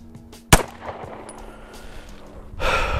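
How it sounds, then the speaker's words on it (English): A single sharp gunshot cracks out in open Sonoran Desert, aimed at a stick, loud and close with a brief echoing tail, followed by a rustling burst of wind or movement. "I'm trying to shoot at that stick on the left."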